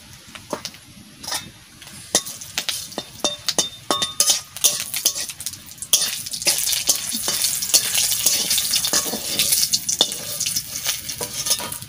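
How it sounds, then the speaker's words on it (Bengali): Dried red chilies fry in hot oil with a salt pinch, a dense crackling sizzle that builds and thickens, broken by sharp pops and occasional stirring clinks, close and moderately loud. "শুকনো লঙ্কা ভেজে নেব"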